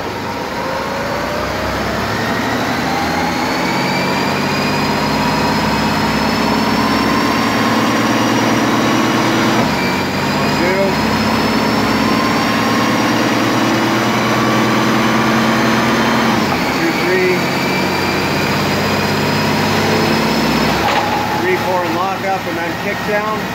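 A Ford AOD automatic transmission with a constant pressure valve body runs on a dyno from a first gear takeoff, a loud steady mechanical drone that rises in pitch across several climbs and drops as it shifts, with people talking over it.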